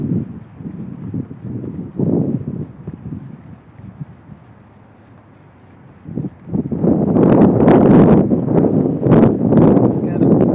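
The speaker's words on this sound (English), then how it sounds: "It's kind of windy out here." Gusts of wind buffet a microphone outdoors at an abandoned strip plaza, the low rumble faint at first and then loud and blustery in the second half, with talk partly underneath.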